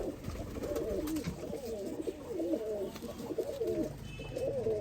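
Cross breeder high flyer pigeons coo steadily, a close pair of birds producing repeated low throaty rolling calls in overlapping phrases with no voices.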